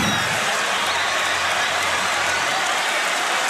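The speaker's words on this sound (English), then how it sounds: "I think all you have to do, Spiro, is listen to the crowd and know what the call was" A basketball arena crowd roars and applauds in a dense, loud, continuous wash of cheering with no breaks.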